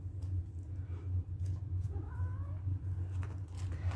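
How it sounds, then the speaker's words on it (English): A house cat gives a faint, brief meow, nearly buried under a steady low hum in an indoor room. "And here's my cat coming to say hello."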